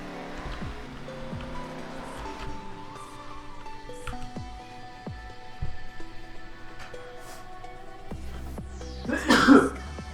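A single sharp sneeze bursts out near the end, close and loud, over a quiet background of video-game ambience with soft tones and faint noises.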